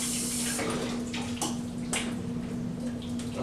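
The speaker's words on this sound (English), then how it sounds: "I recommend running underneath warm water." Warm tap water runs steadily over quinoa in a kitchen sink, a continuous close splashing with a faint steady hum underneath.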